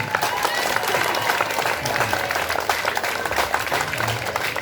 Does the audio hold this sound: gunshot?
no